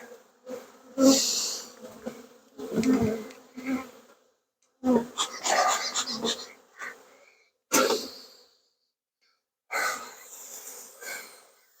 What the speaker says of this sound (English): we'll see all the bees in there